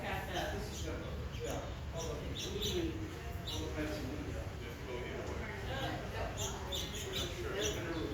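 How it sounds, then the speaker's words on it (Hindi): Small birds chirp and tweet outdoors in a garden, giving quick, faint repeated high calls somewhere in the distance over a steady background hiss. "यहाँ पे चिड़िया भी बोल रही हैं।"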